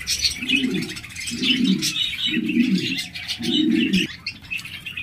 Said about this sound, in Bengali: এখানে দেখতে পাচ্ছেন একজোড়া ক্লাসিক বাজরিগার রয়েছে